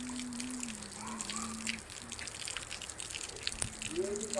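Heavy rain pours down in a steady, dense wash of patter and dripping water, with a low steady hum and faint voices under it.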